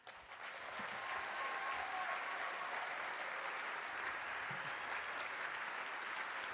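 Applause from a gala audience at a community business dinner swells in within the first half second and then holds as a steady, dense clapping from a sizable crowd, somewhat distant and faint.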